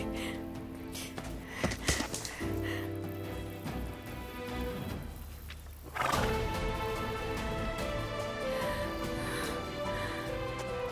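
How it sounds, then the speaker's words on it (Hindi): A horse gives a loud, close neigh, with hoof clip-clop and some rustling around it in an outdoor scene. "देखो घोड़ा, वहां देखो घोड़ा है"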